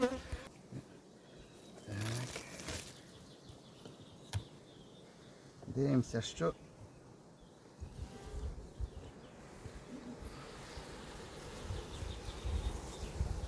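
A soft, continuous buzzing of many honey bees hums around a hive, with a brief spoken word and some handling noises nearby.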